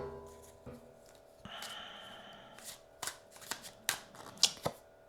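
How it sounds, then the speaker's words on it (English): Tarot cards are drawn and handled close by, giving soft slides and shuffling rustles followed by several crisp snaps and taps as cards are laid down. "we will draw 5 cards for you here"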